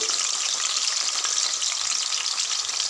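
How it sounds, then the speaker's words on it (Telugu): Potato pieces deep-frying in hot oil in a pan hiss and crackle in a steady, dense, close sizzle with no talking. "ఆలుగడ్డలు ముందుగా డీప్ ఫ్రై చేస్తే కర్రీ టేస్టీగా ఉంటుంది"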